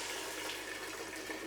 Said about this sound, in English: I'm just gonna add some water.